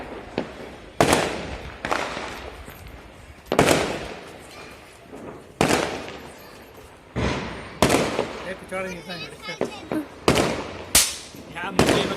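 Diwali firecrackers going off at home, a series of sharp loud bangs about every one to two seconds with crackling tails, while people talk between the blasts.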